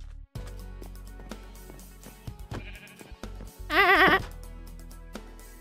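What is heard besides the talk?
sheep bleating in Minecraft video game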